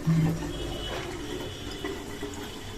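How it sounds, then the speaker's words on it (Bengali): Water from a tap fills a container with a steady, moderately loud gushing and bubbling flow, heard close by with no talking. "চলো জলটা ভরে নিই"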